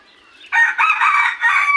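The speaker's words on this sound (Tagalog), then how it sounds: "Ayun ang tandang." A rooster crows loudly and close by, one long strained call with a brief lead-in, alone against a quiet background.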